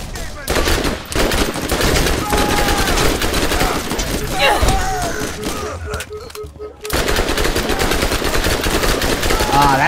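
SMG gunfire in Borderlands, rapid dense bursts of automatic shots rattling almost without pause, with a short gap in the middle and some talk mixed in underneath.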